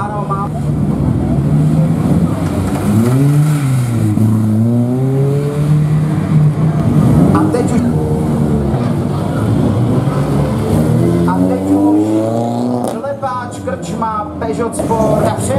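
Rally car engine, a Honda Civic Type R, revving as it pulls away at the ceremonial start of the Podorlická rally in Opočno, a steady engine drone running beneath continuous commentary from a voice.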